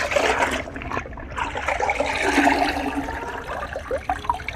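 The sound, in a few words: water poured from bucket onto cloth being washed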